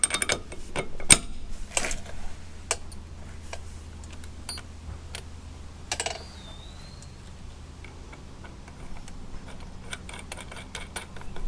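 A ratchet clicks in sharp, irregular bursts while a front wheel is bolted to an IH hub on a Farmall Super M tractor, with metallic taps and a low steady hum underneath.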